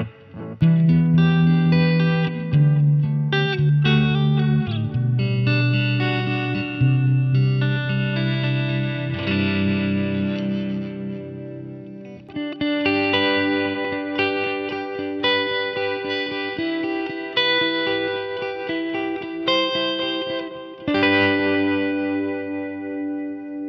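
Electric guitar played through a Coppersound Loma Prieta tremolo pedal with a little reverb and delay, a loud, sustained chordal passage with pulsing, shimmering tremolo and light distortion, steady throughout with no talking.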